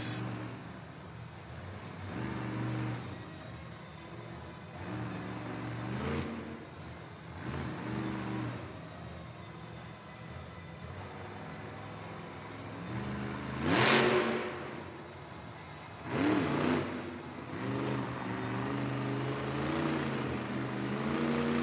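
The El Toro Loco monster truck revs its engine during a two-wheel skills run at a Monster Jam arena event, with long roaring engine surges that rise and fall and two sharp loud peaks over a constant arena rumble.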